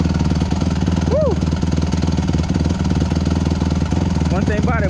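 A 2008 Honda CRF150R dirt bike engine idles close by in a fast, loud, steady putter. Brief high whistles and chirps come through over the engine, and no one speaks.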